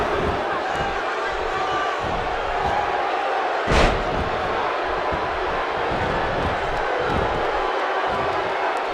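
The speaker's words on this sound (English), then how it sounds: "The crowd is buzzing." A wrestling arena crowd in WWE 2K16 keeps up a steady roar and cheer beneath a commentator's voice, with one sharp slam-like impact cutting through midway.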